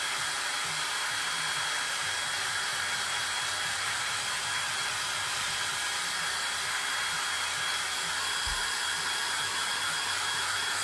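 A hair dryer blows steadily on a layer of a craft cake stand, a loud, constant whooshing hum that runs unbroken throughout with no speech.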